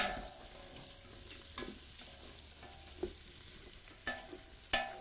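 Onions frying with bacon in a pot for potato soup: a soft, steady sizzle under sharp scrapes and clacks of a utensil stirring, close by, with a few louder knocks toward the end.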